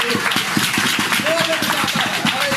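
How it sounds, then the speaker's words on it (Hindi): Church congregation claps together for Jesus in a steady, rhythmic beat, close and fairly loud, with voices talking and singing over the clapping. "हम यीशु के लिए ताली बजाएंगे"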